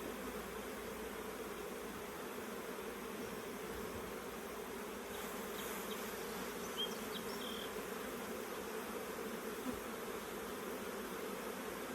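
Honey bees buzz densely around an open hive frame heavy with nectar and eggs, a steady close swarming hum that fills the whole stretch with no talking.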